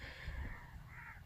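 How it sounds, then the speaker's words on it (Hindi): Crows cawing outdoors near green fields and orchards, a harsh call rising twice over steady background rumble, moderately distant with no voices. "परिंदों के चहचहाने की आवाज़ें"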